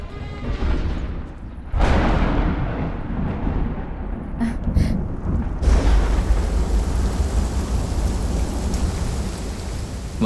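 Steady, heavy rain pours down in a dense, continuous hiss, swelling louder around two seconds in and again near the end, with no voices over it.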